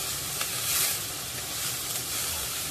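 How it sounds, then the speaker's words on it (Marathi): Finely chopped onions frying in a pan toward golden brown, giving a continuous dense sizzle and crackle with occasional stirring scrapes, close and steady throughout. "बारीक चिरलेले 2 कांदे घालायचे आहेत। कांदा चांगला गोल्डन ब्राऊन होईल इथपर्यंत परतून घ्यायचा आहे।"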